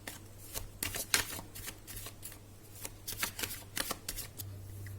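Tarot cards shuffled by hand at close range, a run of quick crisp riffling bursts of paper flutter with short pauses between, over a low steady hum.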